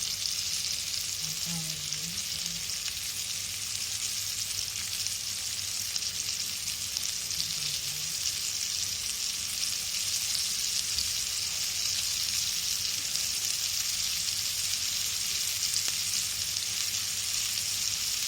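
Halibut fish coated in rawa fries in a pan, a steady loud sizzle with crackling spatter running throughout, alone with no voices and a few faint clinks.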